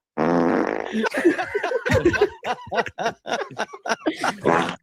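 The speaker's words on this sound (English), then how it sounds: "It's my fart soundboard." Farts from a soundboard play in a quick series, a long wet blast followed by short sputtering pops, loud and close.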